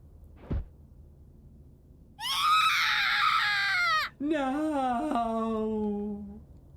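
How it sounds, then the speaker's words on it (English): Two screams from characters in the horror video game Corpse Party, a shrill rising shriek of about two seconds followed after a short break by a longer wavering cry, loud and close after a brief knock. "That was a good scream."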